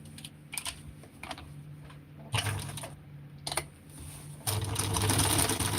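A sewing machine stitches fabric in short, separate bursts with pauses between, close by, then settles into a longer steady run at the end.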